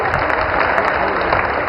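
An audience at an official stage event applauds the dignitaries seated on stage, a dense, loud, continuous wash of clapping from a large crowd.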